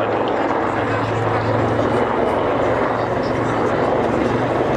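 A Royal Navy Wildcat helicopter flies at the far end of an air display, giving a steady, distant rotor and engine drone that holds throughout with no clear approach or fade, under what sounds like a voice.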